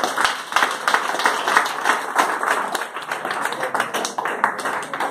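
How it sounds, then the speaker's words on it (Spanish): Congregation clapping steadily through a Spanish-language church service, a dense, even wash of many hands with sharp individual claps standing out, sustained and fairly loud, with little speech over it. "Denle un aplauso al Rey en esta mañana, gloria al Señor"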